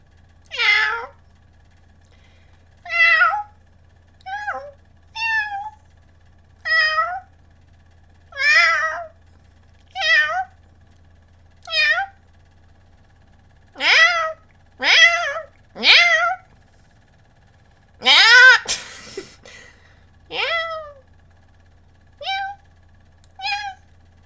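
A person imitates a cat, producing about a dozen separate meows in a steady, irregular series. Each one is loud and close, and there is no other talk.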